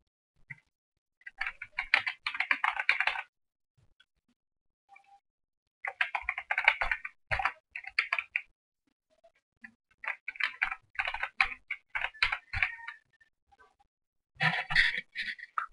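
A name is typed on a computer keyboard in several separate bursts of quick, close key clicks, with brief silences between the runs.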